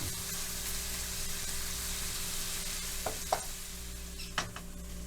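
Dutch baby pancake batter cooking in a hot pan gives a steady, even sizzle all the way through, with a few soft clinks and scrapes near the end and no talking.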